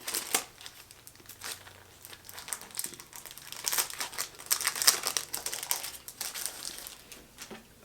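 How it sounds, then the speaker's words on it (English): Stationery packaging being torn open and crinkled by hand, bursts of crisp crackling and ripping close to the microphone, irregular and busy, with no talk. "Oh, you have to clip it off. I tear that off."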